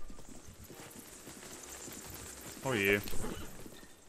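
Horse hooves clopping over rocky ground in the video game The Legend of Zelda: Breath of the Wild, a short burst of clip-clop steps with a brief exclamation from a voice.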